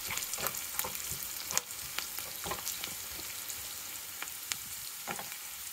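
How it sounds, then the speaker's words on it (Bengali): Onions frying in a pan with turmeric and salt, steady sizzle with scraping stirring strokes throughout, close and fairly quiet. "হলুদের গুঁড়া, স্বাদ মতো লবণ দিয়ে ভালো করে নাড়াচাড়া করে নিব"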